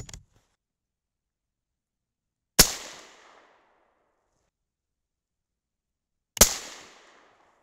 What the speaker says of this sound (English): Hang fire.